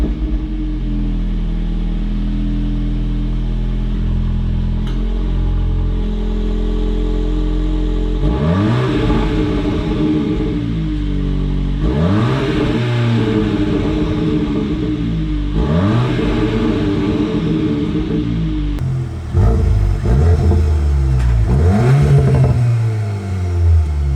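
A 2022 Volkswagen Golf R Mk8 with an MBRP active cat-back exhaust revs repeatedly, its deep sporty note rising and falling in loud, throaty surges after a steady idle.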